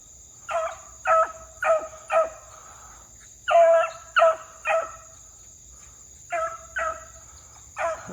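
A hunting dog barks outdoors in short bursts of two or three sharp barks separated by pauses, moderately distant, over a steady high insect drone.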